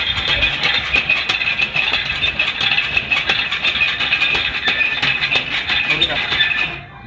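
A homemade speed-breaker power generation mechanism runs with its connected generator rotating, giving a steady, loud mechanical whirr and rattle with faint clinks that continue evenly throughout, then drops off abruptly at the very end.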